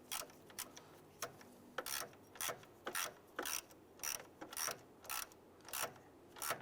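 A ratchet clicks in short, repeated bursts, close and crisp, as it snugs down a radiator bolt on a 1995–2001 Ford Explorer, each stroke a rapid run of pawl clicks with brief pauses between.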